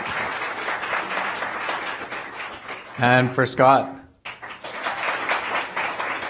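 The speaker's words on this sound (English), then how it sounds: "For Mogens, round of applause." An audience at an entrepreneurs' interview event claps steadily, broken by a brief spoken line from a man before the applause resumes at full strength.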